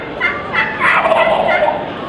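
A wild turkey gobbles loudly in quick rattling bursts, answering a hen call, near and clear with no talk over it.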